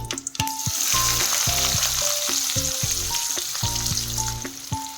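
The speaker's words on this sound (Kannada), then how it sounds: "ಇವಾಗ ಚೀಟಪಟ ಅಲ್ಲತ್ತಾವ ನೋಡ್ರಿ ಸಾಸಿ ಜೀರಿಗೆ" Mustard seeds and cumin splutter in hot oil for palak palya, giving a dense, close crackle with quick popping bursts under steady tonal background music, without speech.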